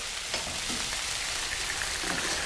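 Hot stock pours into a paella pan of chicken and chorizo, hissing and sizzling loudly and steadily at close range, with no one talking.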